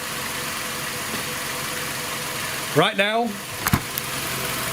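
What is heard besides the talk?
2010 Nissan Altima engine idling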